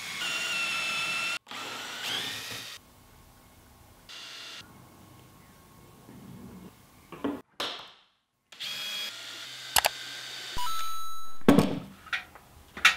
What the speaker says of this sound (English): drilling holes to attach the hardware components